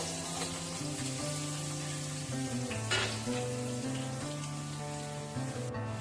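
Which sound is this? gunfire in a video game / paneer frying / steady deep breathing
paneer frying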